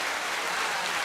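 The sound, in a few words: applause clapping sound effect on radio show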